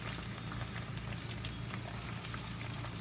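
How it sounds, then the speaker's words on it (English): Celery and onions sauteing in hot vegetable oil in a cast iron skillet over medium-high heat, a steady close crackling sizzle with fine popping, continuous and even. "I got it hot in my cast iron skillet. And then I'm going to add the celery and the onions."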